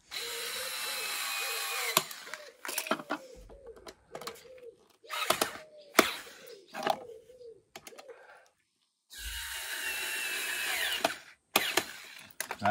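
Power screwdriver driving screws into an electrical regulator box with no pilot holes, several short whirring bursts broken by pauses, clicks and handling knocks, close and fairly quiet.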